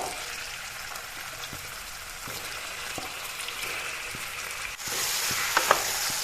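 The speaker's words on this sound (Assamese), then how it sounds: "ইয়াত এতিয়া মই মাংসখিনি দি দিলোঁ" Chicken pieces sizzle as they go into a pan of frying onions with garlic for a tomato chicken curry, a steady close hiss with a few light clicks and a louder, brighter sizzle near the end.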